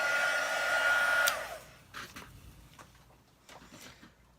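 A heat tool blows steadily for about a second to melt embossing powder on a Stampin' Up! card, then cuts off, leaving faint handling taps and rustles nearby.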